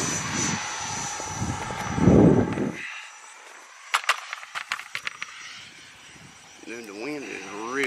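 A Freewing F-22 Raptor 90mm RC jet whooshes past near the start, with its engine roar rising and fading. Wind buffeting and scattered handling noises follow, and a person speaks briefly.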